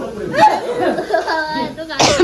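A person coughs in a home kitchen while a meal is being cooked, a sharp broadband burst close to the mic near the end, with talking running through most of the clip.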